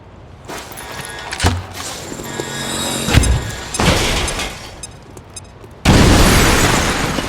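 A grenade explosion in XCOM 2, heard as several sharp bursts and booms with shattering debris. A heavy blast then sustains into a loud roaring wash at the end.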